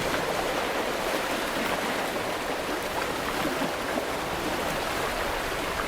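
Ocean waves washing in a steady, unbroken roar of broadband surf, even in loudness throughout with no distinct breaks or voices.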